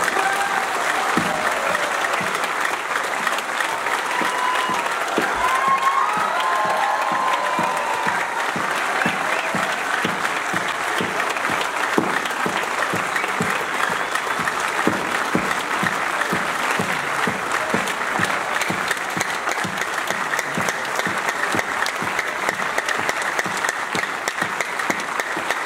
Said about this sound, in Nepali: आधा मिनटसम्म जोरदार ताली लगातार बजाउँछ।